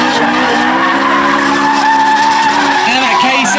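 A drift car's tyres squeal in a long, loud, continuous skid at a drifting event. The whine stays steady and wavers in pitch near the end.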